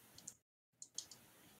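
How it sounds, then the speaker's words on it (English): Typing on a computer keyboard: a few faint, quick clicks, a short silent gap, then another small burst of soft key taps. "are you typing an essay over there?"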